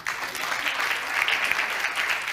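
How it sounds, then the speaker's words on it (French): A dense burst of conference audience applause, steady and fairly loud throughout, with many hands clapping together. "On peut les applaudir."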